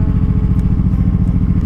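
Close, loud Honda Shadow 1100cc motorcycle engine thumping with a steady, rapid pulsing rhythm, heard alone without speech.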